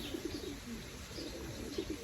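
Soft cooing of a racing pigeon in a loft, low repeated coos over a steady background murmur with faint chirps.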